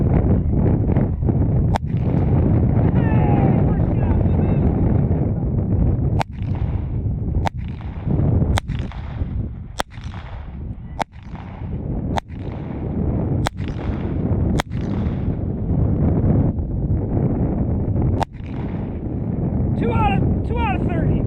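A Walther P22 pistol fires about a dozen sharp, loud shots at a 50-yard target, spaced irregularly over steady outdoor wind rumble, with someone talking between shots.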